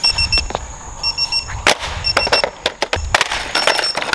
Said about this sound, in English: the alarm has been going off this entire time